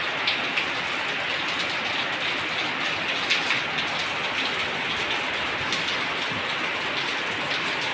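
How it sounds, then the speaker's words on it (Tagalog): Heavy rain pours steadily just outside a house in windy weather, a dense, constant wash of hiss and patter with scattered drop impacts, loud and unbroken throughout. "Pero ang lakas talaga ng ulan."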